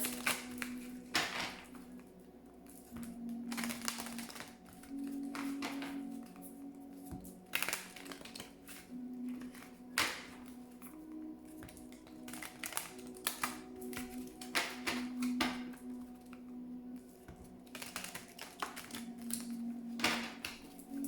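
Oracle cards are shuffled in repeated bursts of crisp riffling, flicking and soft slaps, close and fairly quiet, with a faint tonal hum in the background and no speech.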